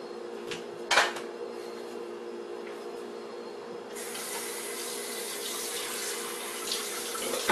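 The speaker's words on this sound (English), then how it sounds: "get those pans into the sink and get some water and get some soap into them" Water runs from a tap into a sink holding greasy pans, starting softly and then gushing harder partway through, with a brief clank near the start.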